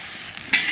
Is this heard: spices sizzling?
yes